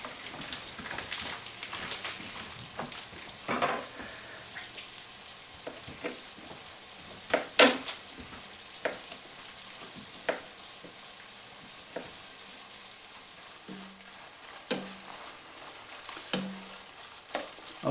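Ground beef browns in a pan with a quiet, steady sizzle, broken by scattered clinks and scrapes of a utensil stirring the meat.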